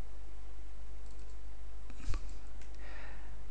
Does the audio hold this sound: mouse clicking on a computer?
yes